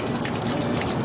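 Water gushes loudly and steadily from a homemade PVC overflow pipe during an aquarium water change, a close, continuous rushing pour with no voices.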